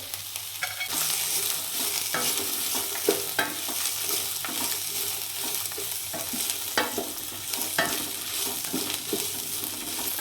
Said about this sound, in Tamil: எண்ணெயிலே வந்துட்டு முட்டைக்கோசு நல்லா வதக்கி எடுத்துப்போம்